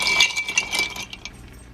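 A Hippopotamaitai cocktail is stirred in a glass without a shaker, giving a brief run of light clinks against the glass that fade out after about a second, close by with no voices.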